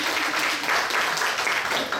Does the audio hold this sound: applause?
yes